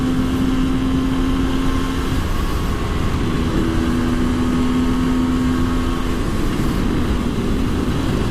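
A KTM EXC 250 two-stroke motard motorcycle engine drones loudly and steadily throughout, a raw continuous tone that shifts pitch slightly midway as the revs change.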